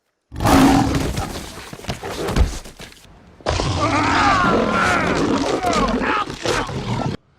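Lions roaring in the Dr. Stone anime: two long, loud, rumbling roars, the second sustained and harsher, separated by a brief silence.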